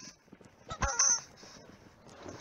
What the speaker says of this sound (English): I got a chicken grenade, buddy.